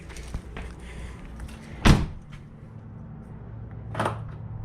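A Jeep JL Wrangler door locking through an aftermarket proximity entry system: one sharp, close mechanical clunk, followed a couple of seconds later by a softer second click over a low idle-like background hum.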